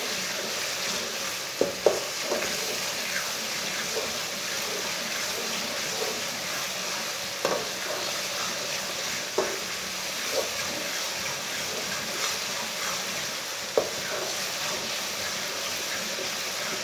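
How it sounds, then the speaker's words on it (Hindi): Tomatoes and garlic frying in a pan for village-style palak and masoor dal, a steady sizzle and hiss broken by a few sharp clinks of the stirring spoon, with no voices. "टमाटर और लहसुन डाल के मैंने 3 मिनट तक भून लिया है"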